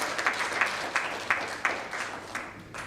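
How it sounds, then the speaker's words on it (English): Applause from an audience at a policy conference on virtual network operator services in India, a steady wash of clapping with regular sharper claps standing out, moderately loud throughout and free of talk. "a big round of applause for Mr. Kuppuswamy and Aero Voice"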